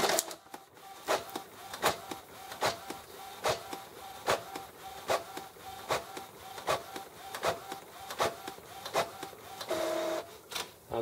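An Epson XP-950 printer runs with its lid open, fitted with a continuous ink system: a steady series of regular mechanical clicks and carriage passes, close and moderately loud, with a brief whirring motor stretch near the end.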